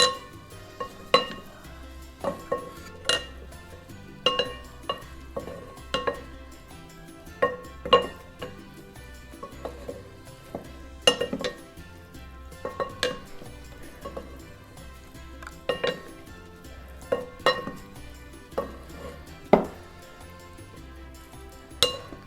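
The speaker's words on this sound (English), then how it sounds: "And then I'm gonna get my little mixers. Then mix them thoroughly." Tomato bruschetta topping with olive oil, salt and pepper stirred in a bowl, giving irregular clinks and taps of utensils against the dish, sharp and close, spaced by quiet gaps with no talk.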